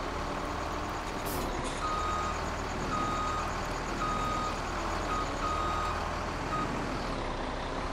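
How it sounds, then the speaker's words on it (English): A truck in the Farming Simulator 17 game reverses on the farm, its backup alarm beeping in a steady, evenly spaced series over a constant low engine drone, moderately loud with no talk. "let's reposition this truck."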